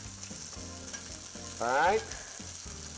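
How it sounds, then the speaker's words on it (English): Green beans being brought back to a full boil in a pot on a home stove give a steady bubbling sizzle, with a louder burst of rattling near the end. "my green beans have come up back to a full boil really slowly"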